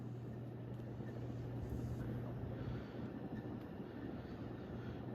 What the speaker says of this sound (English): the bearings are definitely starting to dry out. Can hear them whir a little bit.